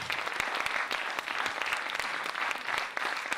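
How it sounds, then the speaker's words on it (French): A crowd applauds at a closing ceremony with sustained, dense clapping that continues steadily from start to finish. "On peut les applaudir une dernière fois."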